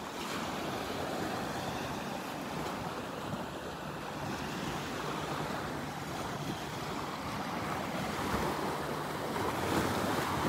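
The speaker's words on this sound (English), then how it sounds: "This is the wake from a boat that passed by earlier out in the Gulf." Steady, continuous surf from a passing boat's wake washing ashore on a Gulf beach at Delnor-Wiggins, a loud, unbroken wash of breaking waves with some wind buffeting the microphone.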